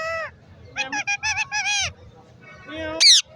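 A green ringneck parrot at a Lalukhet market bird stall calls in short, shrill, honking squawks, a quick run of several bursts followed by a sharper high screech, close and loud with no talk over it.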